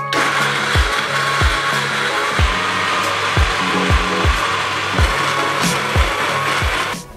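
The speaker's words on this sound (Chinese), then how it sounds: "现在将沙葛、海带和紫菜分别倒入搅拌器中，加入适量的水，然后搅碎" An electric blender whirs as it purees jicama, kelp and seaweed with water, running with a loud steady drone and a regular rhythmic knocking as chunks strike the blades, then stopping abruptly at the end.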